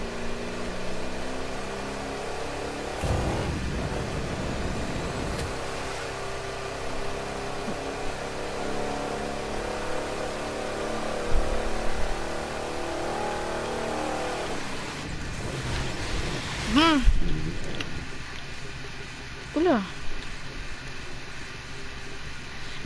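A Chevrolet Corvette C2 engine in the racing game The Crew 2 drones steadily under acceleration, with rising revs and gear-change swells toward the end, no talking.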